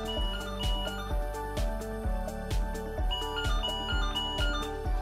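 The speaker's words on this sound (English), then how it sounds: "select the desired volume of the ringtone" A ringtone plays on an ABB Welcome 4.3-inch WiFi door-entry panel, a looping electronic melody of repeated tonal notes in a steady rhythm, clear and fairly loud with no talking.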